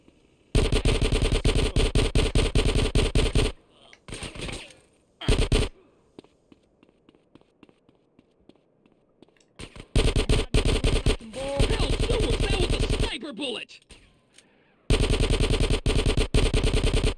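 Automatic weapons in the video game GTA San Andreas fire long, loud, rapid bursts separated by quieter gaps, with several separate volleys across the span and no clear speech over them.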